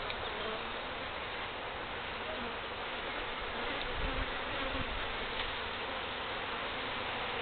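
Dense, steady buzzing of many honey bees packed into a small feral hive being cut out, a continuous close drone filling the whole stretch with no voices.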